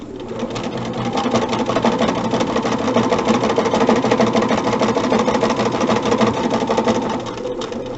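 A sewing machine runs continuously stitching quilt block seams for flying geese units, a loud, steady mechanical whir with a rapid needle rhythm that eases slightly near the end.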